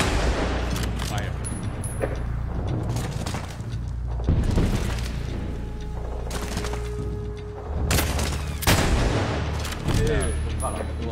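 Gunfire in the video game Medal of Honor Warfighter, several sharp shots and booms spaced across a tactical firefight, with voices talking in between.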